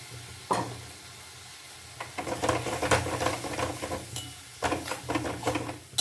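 Food frying in a pan with onion-garlic paste, bursts of sizzling and scraping as a spatula stirs, with clattering metal strokes and short pauses between, close and without speech.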